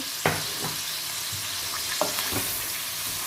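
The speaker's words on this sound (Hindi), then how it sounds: "और इसको इसी में हमने भूनना है अच्छी तरह।" Chicken with green and red chillies browning in a karahi gives a steady oil sizzle, broken by a few sharp scrapes and clinks of stirring, heard close and alone.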